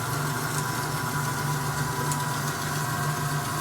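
A homemade band saw with an oil-cooled bearing setup, a spring-tensioned blade and an added extra bearing runs steadily with a continuous mechanical hum and motor drone, close and even throughout, with no voices.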